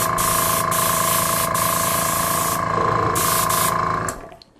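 An airbrush driven by an air compressor sprays ink with a loud, steady hiss and whine that holds for about four seconds, then cuts off abruptly.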